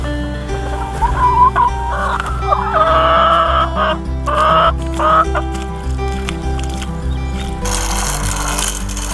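Several chickens cluck and squawk close by in an uneven, chattering rhythm, with a louder rush of noise near the end.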